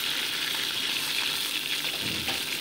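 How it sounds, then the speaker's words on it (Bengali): Fish, large pieces of bhola, frying in mustard oil in a pan, turned over one at a time; a steady, close, dense sizzle runs throughout with no voices. "দেখো মাছগুলো কিন্তু উল্টে পাল্টে আমি ভেজে নিয়েছি মাছটাকে।"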